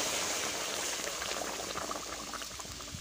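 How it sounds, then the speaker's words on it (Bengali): Kohlrabi curry broth, cooked with dhela fish, bubbles at a rolling boil in a pan: a dense, continuous close gurgle and fizz with no voices. "এবার ঝোলটা একটু ফুটে উঠলে আমি মাছগুলো দিয়ে দেব।"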